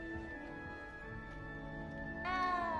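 A cat meows inside the Hogwarts Legacy video game, with a steady tonal hum of game music underneath and a longer, rising meow near the end.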